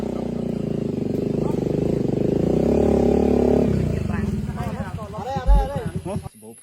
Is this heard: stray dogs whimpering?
no